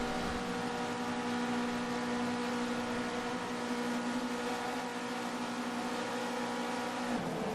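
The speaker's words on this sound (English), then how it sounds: "Revs are climbing." Touring car engines sit revving on the grid before a Silverstone race start in a racing video game, a steady dense droning hum with sustained tonal whine holding constant throughout, then dropping slightly at the end.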